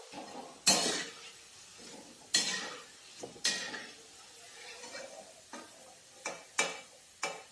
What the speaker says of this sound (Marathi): अशाच प्रकारे आपण सर्व भजी तळून घेणार आहोत.